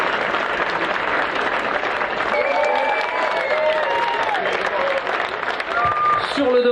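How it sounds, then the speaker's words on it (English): Sustained audience applause at a ceremony honouring a project's founders, dense and steady clapping throughout with a few voices and cheers rising above it. "Applaudissements encore pour ceux qui étaient au cœur, à l'origine du projet"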